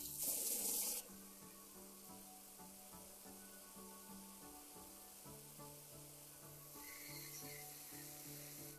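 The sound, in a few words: water running from camper faucet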